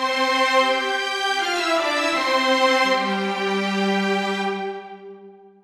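Orchestral strings doubled by clarinets, violas paired with the first clarinet and cellos with the second, in a lush E.T.-style voicing across three registers; sustained chords shift harmony midway and then fade out, with no talking.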